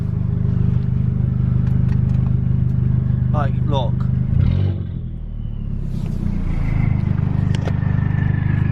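A straight-piped Audi TT Mk1 idles with a loud, deep rumble close by, blipping into brief revs and settling back down while someone talks over it.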